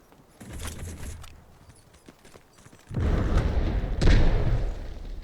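In the video game Delta Force, a grenade detonates with a heavy, rumbling boom, and a second burst hits a moment later over continuing battle noise.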